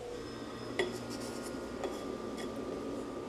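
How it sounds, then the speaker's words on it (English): Cookies are set into a small Pyrex glass bowl while making vegan banana pudding, giving two faint, sharp clinks against glass over a soft, steady background hiss. "we're gonna start with the cookies and layer my little Pyrex bowl"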